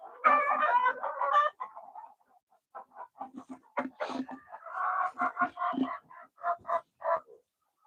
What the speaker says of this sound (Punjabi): ਹੋਰ ਮੁਰਗਿਆਂ ਨੂੰ ਬਾਹਰ ਛੱਡਾਂਗੇ